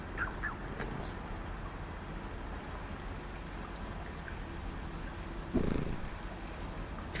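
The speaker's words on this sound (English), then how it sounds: "I don't know if you can hear her purring." A house cat purrs close by in a steady, low rumbling drone that runs throughout, with a brief brighter rustle near the end.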